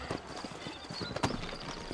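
Horse hooves clip-clop on a dirt town street in the Western video game Red Dead Redemption, a quick irregular trot of hoofbeats, close and moderately loud, with game ambience around them.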